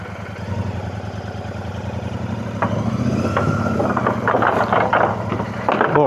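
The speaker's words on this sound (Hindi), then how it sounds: "ऐसे सब ब्रिज पर से अपना बाइक पार करना खतरों से खाली नहीं रहता है।" A motorcycle engine hums steadily as the bike crosses a bridge in a West Bengal village, a mid-pitched drone that grows louder and rougher in the second half, with rattling and clatter over it.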